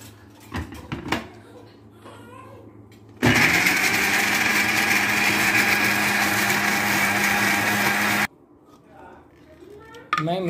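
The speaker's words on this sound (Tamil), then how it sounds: "இதை மிக்சியில் அரைச்சிக்கோங்க." A mixer grinder whirs loud and steady for about five seconds, grinding potato for aloo rava dosa, then stops. Clinks and handling noise come before it, and the motor picks up again briefly at the end.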